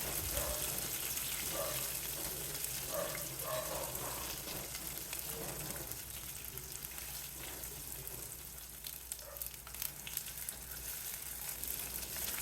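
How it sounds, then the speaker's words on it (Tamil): Onion and garlic sauté in hot oil with dried red chillies and urad dal for a tomato and ridge gourd peel chutney, a soft, continuous sizzle with faint stirring, quiet and close. "வெங்காயம், பூண்டு ரெண்டையுமே சேர்த்து வதக்கலாம்"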